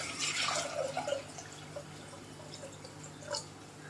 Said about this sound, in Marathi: त्यात आपल्याला पाणी टाकायचं